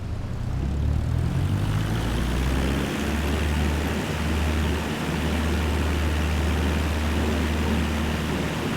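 A Cessna 172 propeller engine in MS Flight Simulator 2020 drones steadily and loudly as the throttle comes up for takeoff, a low buzzing hum that dips briefly a couple of times before holding even.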